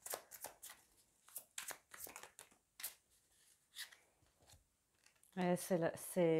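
A tarot deck is shuffled by hand in a run of soft, papery flicks and rustles at an uneven pace, after which a voice begins speaking.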